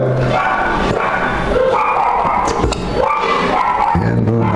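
A dog barks repeatedly through a loud, noisy background, with the yips running throughout the stretch.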